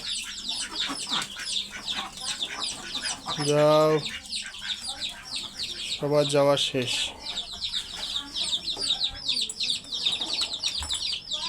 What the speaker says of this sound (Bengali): আর এই মুরগিগুলো চিল্লাচিল্লি করতেছে অনেক